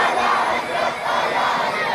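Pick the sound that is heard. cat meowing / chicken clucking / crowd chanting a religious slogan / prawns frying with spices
crowd chanting a religious slogan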